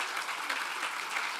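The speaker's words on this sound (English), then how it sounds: "please give a big applause" Steady audience applause fills a forum hall on a trade development day, many hands clapping densely and evenly at moderate distance with no talk over it.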